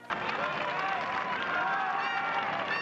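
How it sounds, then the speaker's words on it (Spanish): Steady applause and cheering from a crowd of Spaniards greeting the king on his arrival, a continuous wash of clapping heard at a moderate distance. "muchos españoles aplauden a su llegada y le vitorean"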